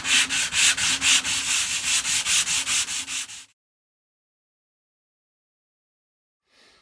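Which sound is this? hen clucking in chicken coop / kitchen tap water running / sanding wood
sanding wood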